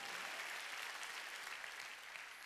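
Church congregation clapping during a Sunday worship service at a Korean church, a steady, dense wash of applause throughout, fairly faint and distant with no voices over it.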